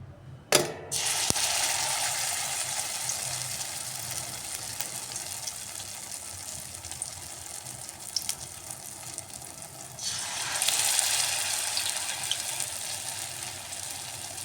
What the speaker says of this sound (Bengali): এবার তেলেই বাকিগুলো আমি এইভাবে ব্যাটার লাগিয়ে ফ্রাই করে নিচ্ছি